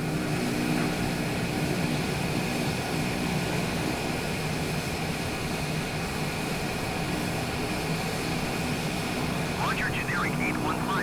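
In a flight simulator, an airliner taxis at Cairns airport, Australia, its engines holding a steady, continuous hum and rumble throughout, with voices speaking over the top.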